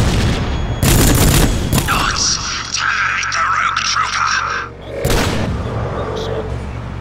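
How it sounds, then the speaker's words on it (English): A grenade goes off in the Rogue Trooper video game, a loud booming blast that breaks in abruptly and is followed by crackling bursts of gunfire and shouted in-game voices over a busy battle din. "Grenade!"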